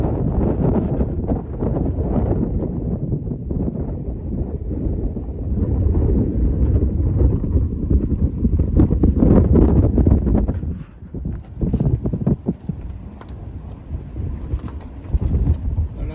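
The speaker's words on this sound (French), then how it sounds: "Belle rafale dans la baie ici." Gusting wind sweeps across a boat riding at anchor in a bay off the Greek islands near Symi, a loud, sustained rush that surges for about ten seconds, then drops and returns in unsteady buffets.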